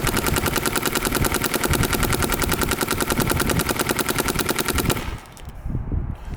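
A paintball marker fires a rapid, continuous stream of shots at close range during a barrel kit test. The shots come as a dense, even rattle for about five seconds, then stop abruptly.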